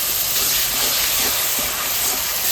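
A splash of water hits frying cumin powder, Kashmiri chili powder and green chilies in a pan, making a steady, loud, broad sizzling hiss that continues throughout.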